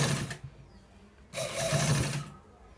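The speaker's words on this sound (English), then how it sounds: "So we are stitching it" A sewing machine runs in two close, steady bursts, the second longer, while stitching a senator-style front pocket.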